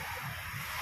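Waves rolling onto the Manila Bay shore, a steady faint wash of surf with some wind noise, no distinct crashes standing out.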